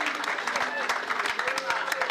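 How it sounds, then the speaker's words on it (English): A small group claps briefly during a motorcycle-racing talk show, sparse uneven hand claps close by with people talking over them. "Round of applause for that."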